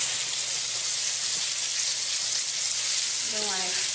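Rainbow trout frying in a pan, a steady loud hiss of sizzling oil throughout, with a brief voice near the end.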